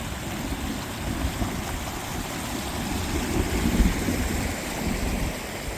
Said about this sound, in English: So let's get this water flowing.